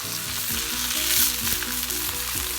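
Australian grade 4 wagyu picanha steaks with a thick fat cap sizzle loudly and steadily in a pan, a dense close crackle with no talking.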